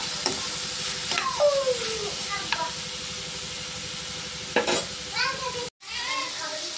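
Steady sizzling of onions, tomato and garlic frying in a pan with salt and turmeric, with a few scrapes of a spoon stirring, continuous and close throughout.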